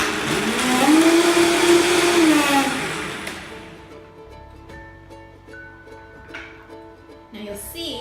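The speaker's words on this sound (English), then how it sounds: "And then give it a blend." A blender whirs loudly as it purées leek and cauliflower soup with cashews, the motor rising in pitch then winding down after about three seconds, leaving quieter kitchen clinks and faint background sounds.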